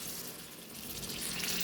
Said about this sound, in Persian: اینو ما آب میریزیم که